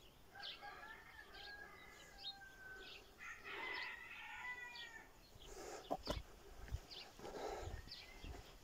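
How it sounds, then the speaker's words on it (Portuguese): Chickens cluck and call faintly outdoors in the distance, with short rising cries from several birds over soft background noise and a few nearby knocks. "tem bastante galinha"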